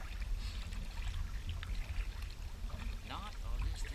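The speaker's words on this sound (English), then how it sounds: "I'll just enjoy paddling." A kayak paddles on Lake Hudson in Oklahoma, with soft water swishes and trickles and a low rumble of wind or motion close by, while a voice talks briefly toward the end.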